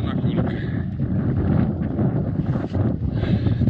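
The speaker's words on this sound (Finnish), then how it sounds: "Vähän tuulee, mutta ei sada." Strong wind buffets the microphone outdoors on a hike through the Kevo canyon in Finnish Lapland, a constant loud rumble and roar that blurs the scene, with a voice faintly present beneath it.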